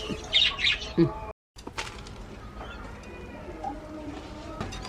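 Pigeons coo and squawk near the listener amid scattered chirps and rustling, with a brief silent gap early on.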